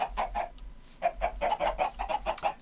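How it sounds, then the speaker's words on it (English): Chickens in Minecraft cluck in quick bursts, several short calls in a row, then a pause, then a denser run of clucks. They are close and clear against a faint low hum. "How are those chickens getting under there all the time?"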